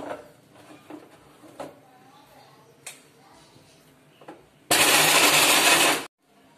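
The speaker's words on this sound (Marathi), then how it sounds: "ह्यात थोडंसं पाणी टाकून हे चांगलं जाडसर वाटून घेते" A mixer grinder whirs loudly for a little over a second as it grinds crab masala paste with a splash of water, preceded by a few soft clicks and knocks of handling it amid quiet speech.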